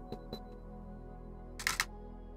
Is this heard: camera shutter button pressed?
yes